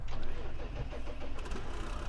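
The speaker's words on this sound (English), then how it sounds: "I bought a new vehicle. This is a Peterbilt 379" A Peterbilt 379 day cab truck engine in Farming Simulator 2015 starts and settles into a steady, loud, close diesel rumble, continuous throughout.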